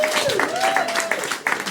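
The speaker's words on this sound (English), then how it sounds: "Judging by the speed of that applause, a controversial decision." An audience at a roast battle claps in a brief burst of applause with a choppy rhythm. Someone talks over it throughout.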